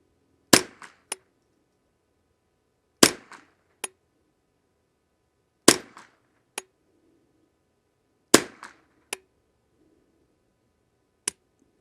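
Ruger 10/22 rifle firing Exakt 22lr ammunition: four sharp, distant-sounding reports spaced a few seconds apart, each trailed by faint clicks and small ticks, with a lone click near the end and quiet between shots.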